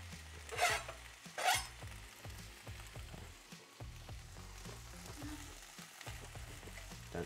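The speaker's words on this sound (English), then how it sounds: "in go the onions, the peppers, the carrots, the beans, all in there. We're going to cook them down." Onions, peppers, carrots and beans fry in a pan with a soft, steady sizzle and two brief brighter hisses early on, as if stirred.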